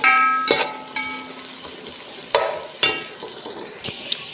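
Onions fry in hot oil with cumin seeds, a close, bright sizzle punctuated by several sharp scrapes and knocks of a spoon stirring the pan, with no voices.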